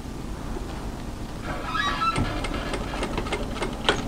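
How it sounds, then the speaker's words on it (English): An overlocker stitches through the hem of a knit turtleneck top, a steady close mechanical whir with a faint rapid rattle that runs the whole time with no talk. "And I'm going to stitch through the overlocking line to do the hemming."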